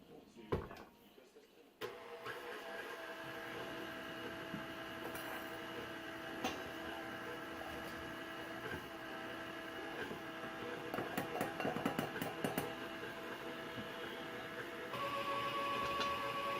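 An electric mixer whirs steadily through molasses cookie dough, a continuous mid-loud motor drone that starts abruptly after a brief pause, with some clatter against the bowl and a person speaking.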